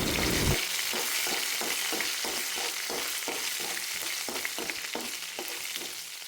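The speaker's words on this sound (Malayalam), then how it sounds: "ഇനി ഇതിലേക്ക് വെളുത്തുള്ളി ഇഞ്ചി ഇട്ട് മൂപ്പിച്ചെടുക്കാം" Garlic and ginger fry in hot coconut oil for a brinjal thoran, giving a steady loud sizzle broken by regular rhythmic scrapes of stirring, with no talking.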